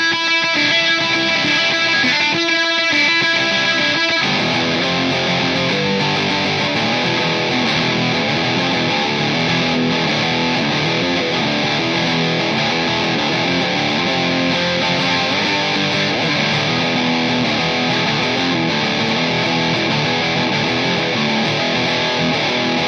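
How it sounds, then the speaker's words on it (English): An electric guitar played through a Boss DS-1 distortion pedal, a loud, thick, continuously fuzzy tone with sustained chords and riffs running without a break. "you've got a distortion sound that's usable"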